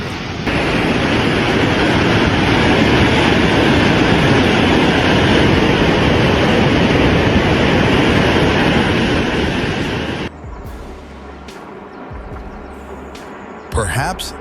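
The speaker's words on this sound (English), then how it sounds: "Boulders crashing together can sound like a freight train or a long roll of thunder." A debris flow of boulders crashing together makes a loud, sustained roaring rumble like a freight train that builds and holds for about ten seconds, then cuts off abruptly to quieter background noise.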